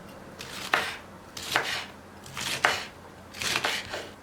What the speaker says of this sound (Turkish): baklalarımı tahtada daha kolay doğrayacağım. Bu şekilde doğruyorum.